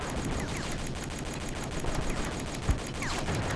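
Rapid machine gun fire in the PC video game Iron Storm rattles in a steady, dense burst of repeated shots, with a heavier thump near the end.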